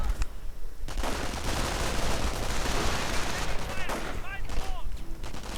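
Gunfire crackles almost continuously through a real-time strategy battle, with bursts of rifle and machine-gun shots echoing in a busy street fight, punctuated by whizzing ricochet-like tones toward the end.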